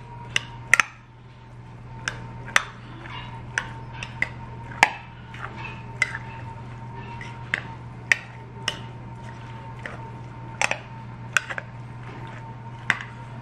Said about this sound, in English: just gonna take a large spoon, and we're going to just mix this all up